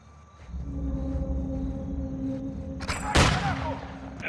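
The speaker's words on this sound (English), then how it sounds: "That gunfire alerted them." Gunfire in the Call of Duty Modern Warfare 2 campaign, a sharp loud burst of shots after a few seconds of tonal game ambience and hum, with a smaller pop at the very end.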